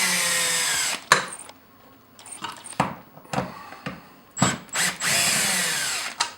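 A power drill drives screws into a homemade bracket on a bass boat, heard as a series of close whirring bursts: a long opening run, several short stop-start spins, then a longer final burst.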